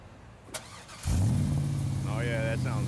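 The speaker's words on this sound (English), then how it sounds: "Those LS motors sound great, man." A 2002 Chevrolet Corvette with an LS V8 cranks briefly and fires up with a loud roar, then settles into a steady, deep, close idle, with some voices around it.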